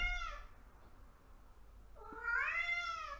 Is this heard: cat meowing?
yes